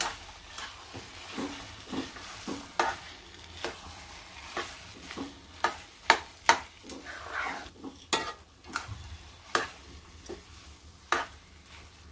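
A spoon stirs ghee-roasted dry fruits into pineapple semolina sheera in a pan, giving a run of sharp scraping and clinking strokes at an uneven rhythm over a faint sizzle, close and fairly quiet, with no talking.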